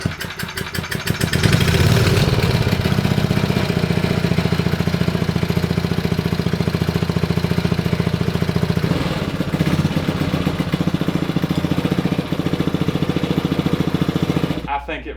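An old abandoned Briggs and Stratton 5HP generator engine starts and runs with a loud, steady, rattling putter close up, then cuts off abruptly at the end.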